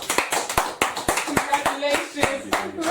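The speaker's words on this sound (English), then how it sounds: "Round of applause." Brief round of applause during a catering interview, a handful of people clapping in a loose, uneven burst of sharp hand claps, with voices chatting over them.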